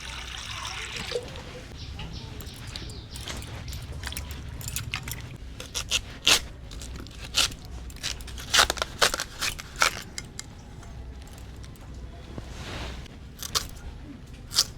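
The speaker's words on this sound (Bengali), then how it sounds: "ছাল সমেতই আমি কেটে নেব।" Ridge gourd being cut with the peel still on, a series of sharp close knife chops and scrapes on a board, irregular and getting denser toward the end, over faint background noise.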